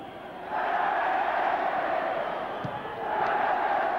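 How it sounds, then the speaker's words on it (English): A football stadium crowd at a 1974 Second Division match between Bristol Rovers and Aston Villa gives a broad, sustained murmur of disapproval that swells and dips over a few seconds. "Crowd don't like it, but the linesman's adamant."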